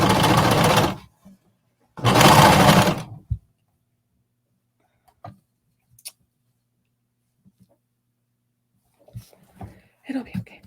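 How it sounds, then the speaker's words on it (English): A sewing machine top stitching around a fabric pocket runs in two loud, close bursts of steady whirring stitches, separated by a pause and followed by scattered quiet clicks and handling noises. "we're just gonna top stitch around"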